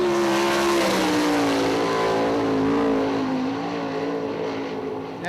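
Sprint car racing down the back straightaway at Eldora Speedway, a loud, high-revving engine wail holding strong before fading slightly as it moves away, with no speech.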